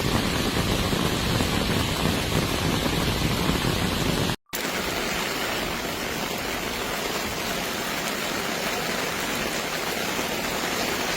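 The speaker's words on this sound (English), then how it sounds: "Torrential rains swept through the central parts of South Korea on Thursday" Heavy torrential downpour in central South Korea, a dense, even hiss of rain that runs continuously, broken once by a split-second cut before resuming just as loud.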